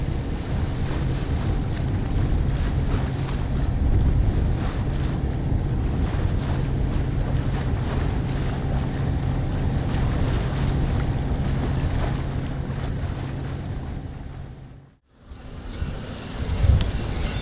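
A sailboat motoring at sea off southern Sweden in fading wind: a steady low engine drone mixed with wind buffeting and water rush, holding evenly before a brief dropout near the end.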